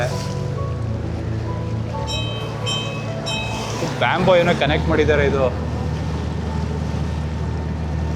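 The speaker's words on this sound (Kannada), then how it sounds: "ಅಲ್ಲೊಂದು ಬೋಟ್ ಬರ್ತಾ ಇದೆ." A boat on Vembanad lake in Alleppey, Kerala, gives a steady low engine drone with wind and water wash, while people talk over it close by.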